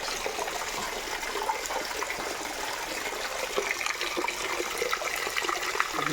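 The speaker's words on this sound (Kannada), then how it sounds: "ಬಾಯಿಂದ ನೀರು ಬರ್ತದೆ ಇದನ್ನು ಹಿಮ್ಮದ್ಗಿರಿ ಫಾಲ್ಸ್ ಅಂತ ಕರೀತಾರೆ" Water flowing at Himmadgiri waterfall in Jogimatti, a steady, broad rushing hiss that holds evenly throughout, fairly close, with no voices over it.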